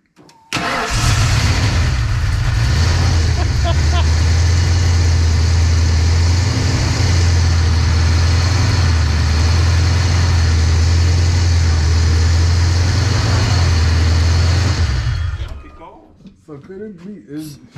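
A 331 stroker V8 in a GT cranking for a long stretch without catching, a loud, steady, rhythmic starter churn lasting about fifteen seconds before stopping, followed by faint voices.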